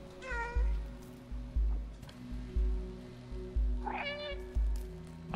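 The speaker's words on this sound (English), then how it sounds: "when you meow, it seems to activate the guide" A cat meows in the video game Stray, two clear meows rising over a steady pattern of soft rhythmic thumps and light rain-like ambience.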